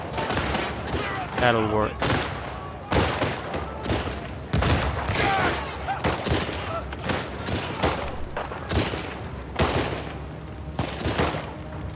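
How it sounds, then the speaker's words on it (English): Rapid bursts of gunfire as enemies shoot one another in The Last of Us Part II, dense overlapping shots and booms filling the whole stretch, with a player briefly talking over the fight. "I'll just let you guys shoot each other a little bit."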